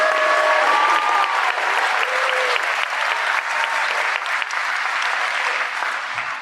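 A school audience of grandparents and friends at a Thanksgiving program applauds steadily for student speakers, a dense, even wash of clapping that holds throughout with faint whistles near the start.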